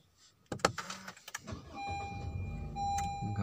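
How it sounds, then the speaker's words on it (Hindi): A Honda Civic 1.8 being switched on, with a sequence of close clicks and a short electric whir followed by a quiet steady hum with a faint high electronic tone. "गाड़ी ऑन हो गई।"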